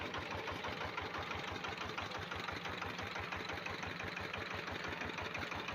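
A homemade generator built as an attachment for a walk-behind tractor runs steadily, its close, loud engine chugging in a fast, even rhythm with a mechanical rattle throughout.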